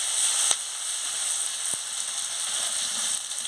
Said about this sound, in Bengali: লঙ্কাটা দিয়ে দিচ্ছি, পোস্ত বাটা দিয়ে দিচ্ছি, দিয়ে ভালো করে ভেজে নিচ্ছি।